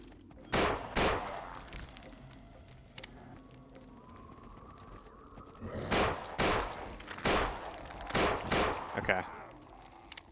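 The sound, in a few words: gunfire shooting at runners in a zombie video game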